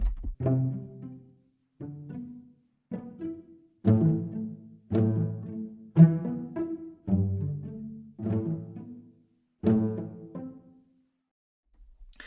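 Plucked pizzicato strings play a short phrase of detached notes, some accents louder than others, with brief gaps between groups and no voices.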